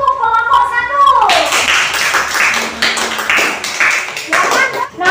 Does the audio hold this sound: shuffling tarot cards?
no